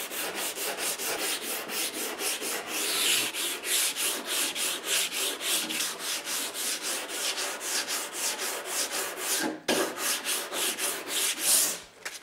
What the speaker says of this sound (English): Then, take a sanding block like this